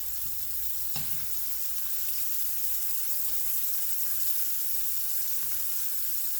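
A frying egg sizzles steadily in a hot pan, a continuous close crackling hiss with a couple of brief sharper spits and no talk.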